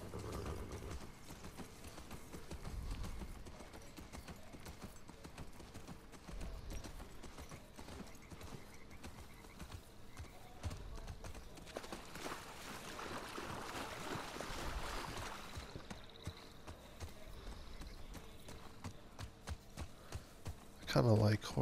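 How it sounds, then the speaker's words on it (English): Horse hooves in The Last of Us Part II, a steady close clip-clop as the horses walk along, with game ambience and people's voices talking over the hoofbeats. "horses."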